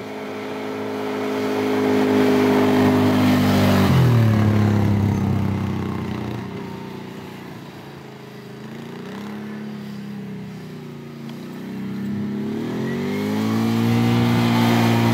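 An ATV engine drives across a farm field, its mid-pitched drone rising and falling as it speeds up and slows, loud and steady throughout, with no speech.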